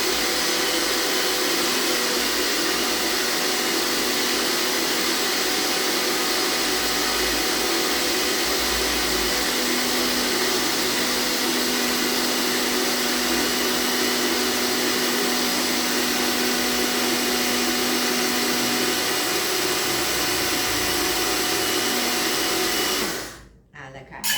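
An electric blender grinding rice, a machine that has grown louder with use, gives off a loud, steady, whirring motor roar that runs unbroken for about 24 seconds before cutting off abruptly.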